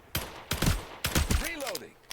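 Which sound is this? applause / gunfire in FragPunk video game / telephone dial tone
gunfire in FragPunk video game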